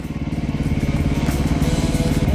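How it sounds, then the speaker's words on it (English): KTM 500 EXC dirt bike at the start of an enduro test section, its single-cylinder engine idling loud and close with a rapid, even pulsing thump and a slight rise in revs. "At each test section, we would check in and then start, one bike at a time, 15 to 20 seconds apart."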